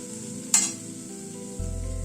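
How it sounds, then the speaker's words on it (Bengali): Cashew paste sautés in a pan with a steady soft sizzle, one sharp scrape or stir near the start, and a louder low rumble joining toward the end. "কাজু পেস্টটা দিয়ে মিনিট 2 মতো একটু কষিয়ে নিলাম।"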